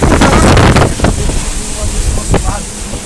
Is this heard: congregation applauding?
no